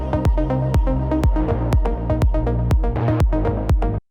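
Electronic deep house track with a rolling synth bass and a bright plucked arpeggio over a steady four-on-the-floor kick, loud and full, cutting off abruptly at the end.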